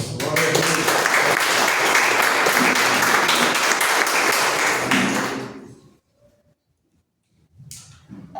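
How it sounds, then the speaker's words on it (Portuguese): A church congregation claps loudly and densely for several seconds, then the applause stops abruptly into near silence before faint movement and sound resume. "Recebe o servo do Senhor com as palmas."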